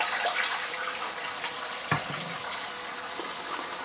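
Warm water runs from a tap in a kitchen sink while a wild boar foot is scrubbed for making ham, a steady splashing hiss with a brief knock partway through.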